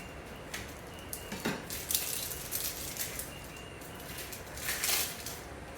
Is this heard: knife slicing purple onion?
yes